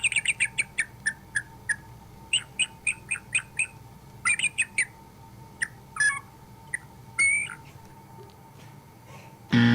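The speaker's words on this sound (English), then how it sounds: "That there is a bald eagle, symbol of America." A bald eagle calling, a run of thin, high, rapid chirping notes in quick clusters, loud and clear over a quiet low hum, then a few scattered calls.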